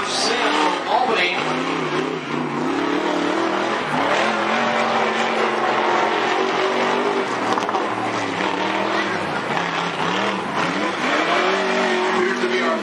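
Loud late model and modified race car engines roar continuously at close range on a dirt track at Cottage Grove Speedway, with revving pitch sweeps as cars tear around, no pause in the noise.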